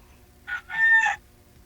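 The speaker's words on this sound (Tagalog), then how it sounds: "May manok kita sa tabi mo." A chicken nearby gives one short, loud, two-part squawking call over a faint low background hum, then falls quiet.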